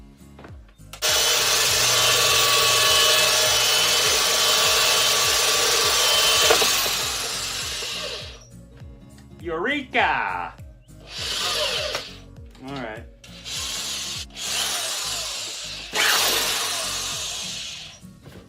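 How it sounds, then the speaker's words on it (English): A power drill whirs loudly for several seconds while boring into a plastic bucket, then short bursts of drilling follow, with a brief voice in between. "Okay, let's drill a hole in it."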